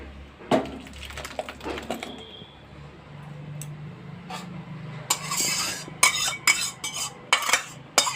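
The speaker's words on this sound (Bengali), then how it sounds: "চাটনিটা ঢেলে দেবো।" Tomato chutney scraped and poured out of a pan with lemon leaves: a spoon clinks and taps against the metal, starting sparse and growing into a busy clatter of scrapes and knocks close at hand.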